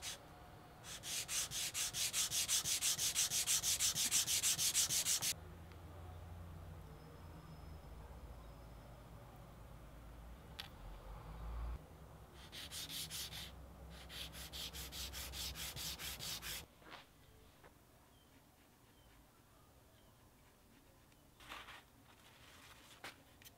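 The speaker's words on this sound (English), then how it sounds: "I sanded it a little bit until the tiny hand got released" A wooden ukulele bass fretboard inlay being sanded, dense hissing rubs in sustained bursts, loud at first then a shorter run midway, fading to quiet handling sounds, no voices.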